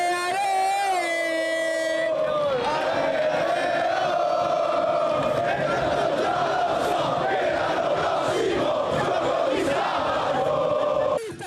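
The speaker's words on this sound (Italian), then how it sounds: "Sulla terrazza del Foro Boario sono i calciatori stessi a intonare i cori, seguiti da una piazza piena di gioia" Football fans fill the Prato della Valle square, joining players in chanting songs. A tonal horn blares first, then a loud, continuous crowd roar of singing and cheering rolls on.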